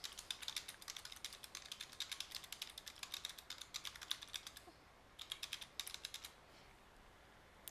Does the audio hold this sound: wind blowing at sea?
no